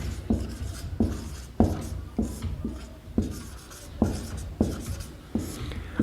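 Chalk or marker scratching out short examples on a classroom board, a run of repeated strokes with sharp starts and brief pauses between words, close and clear with no talk.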